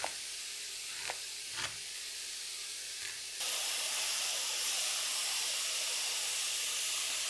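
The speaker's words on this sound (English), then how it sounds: "oil is hot, we're gonna add in the stew meat. And we're just gonna brown this on all sides." Beef stew meat hitting hot oil in a pan, a few sharp sizzles at first, then a steady loud hiss of browning meat that carries on without talk.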